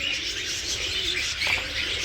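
Pigeons kept in pairs at a bird farm coo softly with a few short chirps over low background hum, fairly close and with no one speaking.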